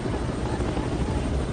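UH-1 Huey military helicopters of a cavalry division preparing for a Vietnam War battle give off a dense, loud rotor rumble, steady and continuous throughout.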